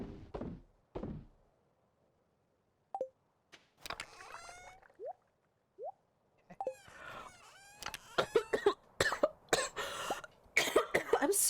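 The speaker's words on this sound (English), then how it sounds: "I'm like coughing into the mic." A person coughs close into a microphone, a couple of rough bursts early on, then scattered thumps, throat sounds and a rising run of sharp coughs and knocks near the end.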